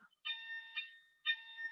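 A workplace fire alarm sounds for its weekly test, giving two long electronic tones of equal pitch with a short gap between them, moderately loud and heard alone.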